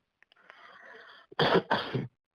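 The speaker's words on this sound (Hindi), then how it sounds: "देखो फिर खांस रही हूँ" A woman coughs twice in quick, forceful bursts close to the mic, preceded by a quiet stretch of faint low murmuring.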